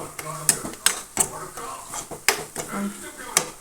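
Curry with onion paste frying in a pan for an egg and drumstick curry, stirred with a metal spoon that scrapes and clinks against the pan in irregular knocks over a low sizzle, with someone talking.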